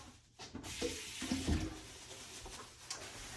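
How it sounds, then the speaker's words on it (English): Water runs from a kitchen tap over fresh cilantro being rinsed, a soft steady splash with brief louder gushes, faint and close, without talk. "And then cilantro. Cilantro. Rinse it off."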